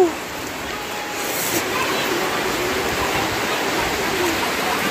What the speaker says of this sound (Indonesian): cuaca juga kurang mendukung, lagi hujan